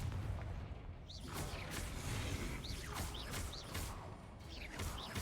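Rapid spell combat in Hogwarts Legacy includes a Confringo blasting spell explosion: a muffled, continuous low rumble of repeated blasts with brief whooshing sweeps, fairly quiet overall.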